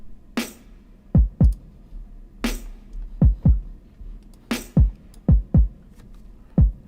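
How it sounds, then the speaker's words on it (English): A drum sample with reverb added: deep kick thumps and sharp snare hits, each trailing into a short echoing tail that gives a roomy, spacious feel. "Let's add some reverb."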